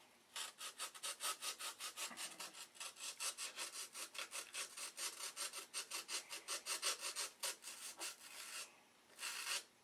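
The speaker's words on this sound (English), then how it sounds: "You wanted to see me sand." Hand sanding wood with a steel rule wrapped in 80 and 180 grit sandpaper, rough rhythmic back-and-forth rasping strokes close up, steady for most of the stretch with a brief pause near the end, no talk.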